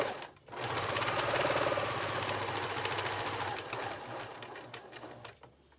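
Sewing machine stitching through patchwork and lining, a fast continuous whirring run of several seconds that slows and stops, close and clear with no talking.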